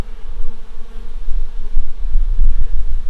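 Loud, close buzzing of bees during a hive inspection, a low droning hum that swells and fades continuously with no voices.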